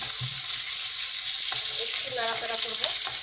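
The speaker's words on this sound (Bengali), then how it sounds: "এই পেঁয়াজটা দিয়ে দেবো।" Separated onion pieces frying in hot oil, a loud, continuous hissing sizzle close up, with a few faint knocks and stirring sounds underneath.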